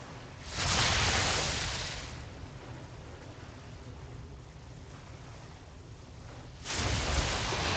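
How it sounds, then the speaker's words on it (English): Ball Lightning ability effect in a video game raid: two loud rumbling crackling bursts, one near the start and another near the end, with a softer noisy rumble between them and no talking. "Beware. Ball lightning."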